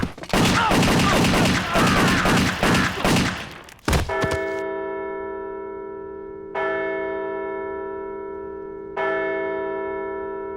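A loud burst of rapid cartoon gunfire, then a sharp bang and two ringing metallic gunshot tones that decay slowly, with pauses between them.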